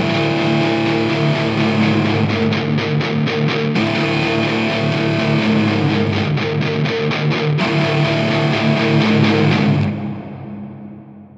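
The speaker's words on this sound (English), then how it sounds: "this is guitar that I played in, and then I put through some similar distortion" A heavily distorted guitar chugs in a steady low rhythm, layered with a sustained bowed cello line, loud and dense, then cuts off leaving a fading ring.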